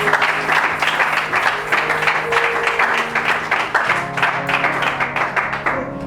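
A congregation at a French-language church service claps together in a steady, sustained round of applause that fills the room, with no one speaking over it.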